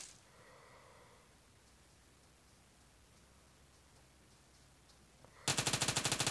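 Rapid automatic gunfire from the video game PUBG Mobile bursts out loud and close near the end, a fast regular string of shots following a quiet stretch of low game ambience.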